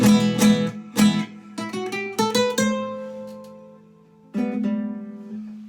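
Miked acoustic guitar playing a series of plucked notes and strums, separated by short pauses, with a final chord ringing and slowly decaying.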